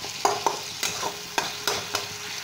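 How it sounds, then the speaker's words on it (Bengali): A spoon scrapes and knocks against a pan while tomatoes with salt and turmeric fry and sizzle, about six distinct close strokes over a steady hiss, no voices. "এবার ভালো করে আমি এগুলো কষাতে থাকবো যতক্ষণ না টমেটোটা একদম"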